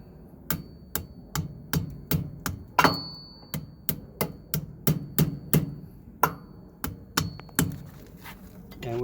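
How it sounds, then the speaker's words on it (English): Hammer blows on a Freightliner Cascadia or Kenworth semi truck axle during wheel seal removal, a long series of sharp metallic strikes at a steady rhythm, each ringing briefly, close and loud. "we're going to be using this hammer."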